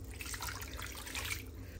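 About one and a half cups of water poured into a kilogram of raw chicken for biryani, a soft, steady splashing trickle that runs continuously and fairly quietly throughout.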